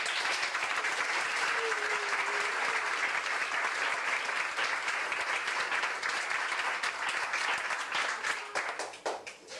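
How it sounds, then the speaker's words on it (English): A crowd at a summer swim team banquet claps in sustained, enthusiastic applause that carries on for several seconds before thinning out toward the end. "give them a big round of applause"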